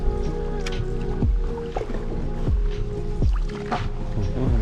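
Paddling an Itiwit 3 inflatable kayak on Lake Vyrnwy: rhythmic paddle strokes dip and splash close by, roughly one every second, with water trickling and dripping between them over a steady background hum.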